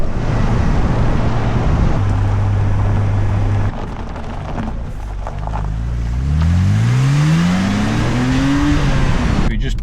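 A BMW Z4 roadster crunching along a rough gravel road in the Pacific Northwest, steady tire and road rumble with engine drone, then rising revs as it accelerates near the end, loud and close.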